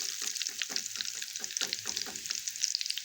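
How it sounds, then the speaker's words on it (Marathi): Corn flakes (makyache pohe) frying in hot oil for chivda, a steady close sizzle with a rapid run of crackling bursts throughout, no talking. "आता आपण ते तळून घेणार आहे. अशा प्रकारे तळून घेणार आहे."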